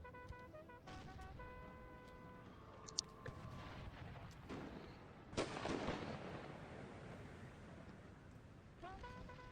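Artillery fire in an American Civil War battle game, a deep distant boom rolling out amid scattered musket shots and bugle-like tones, with quiet talk.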